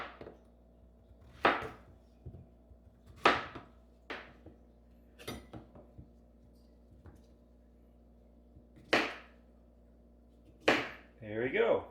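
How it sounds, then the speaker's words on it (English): A knife cuts zucchini into half-inch rounds on a cutting board, each slice ending in a crisp thunk, spaced a second or two apart in an uneven rhythm over a steady low hum, close by and fairly clear. "Next we're going to slice it around 1/2 inch thick"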